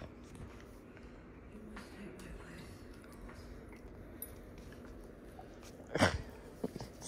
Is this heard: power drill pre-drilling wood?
no